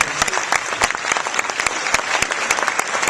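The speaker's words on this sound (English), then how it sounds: "If we give him a round of applause." A conference crowd in London applauds as a young man is called up at a youth motivation event: sharp, dense clapping with distinct individual claps standing out, sustained and fairly close.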